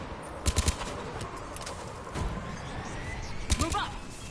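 Bursts of mounted gun fire in the Mass Effect 3 video game, a quick cluster of shots early on and another burst near the end, with background combat noise throughout.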